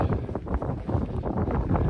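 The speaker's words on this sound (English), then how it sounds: "Every time you do an outdoors trip, it's blowing a gale." Strong gale-force wind buffets the microphone outdoors, a loud continuous rumbling roar with gusty surges.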